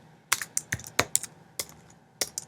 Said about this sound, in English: and then of course you type the link.